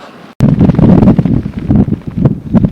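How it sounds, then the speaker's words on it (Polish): Strong gusty wind buffets a cyclist's microphone at a roadside stop, a loud low rumbling roar that bursts in abruptly after a brief quiet moment and keeps fluttering unevenly. "Ale wieje, teraz na postoju to czuć, z jakim mega wiatrem ja przed chwilą jechał"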